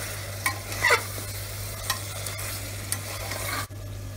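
A mutton curry being stirred as it fries in a pan, with occasional scrapes and clinks of the spoon over a steady low sizzle, close and moderately loud, with no voices.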